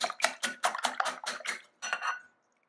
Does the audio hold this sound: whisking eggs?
yes